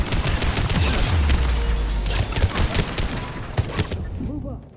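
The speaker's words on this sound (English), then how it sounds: "Enemy on the mounted gun. Gotta get him off that gun!" Rapid gunfire rattles from an enemy-manned mounted gun in the shooter game Mass Effect 3, dense overlapping bursts with heavy low thuds, staying loud and sustained before trailing off near the end.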